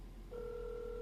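A telephone gives a short electronic tone, a single steady two-pitch beep starting abruptly and holding for under a second, faint and alone.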